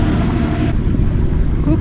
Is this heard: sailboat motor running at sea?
yes